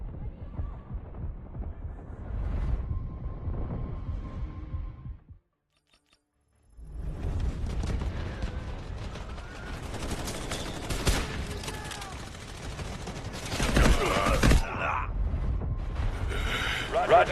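Video game combat with an artillery barrage and gunfire: dense rumbling blasts and rapid shots, a brief silence, then sustained loud fusillade with sharp cracks, voices talking underneath.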